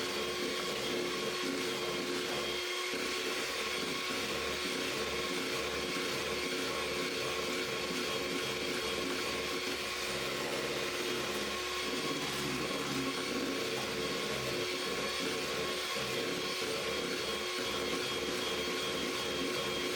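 An electric mixer whirs steadily through cake batter for fairy cakes after an egg goes in, a continuous loud motor drone running unbroken throughout with no talk.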